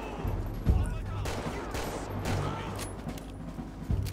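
Gunfire in GTA 5 with the LSPDFR police mod: scattered shots and bursts of moderate loudness over background game noise, with someone speaking between them.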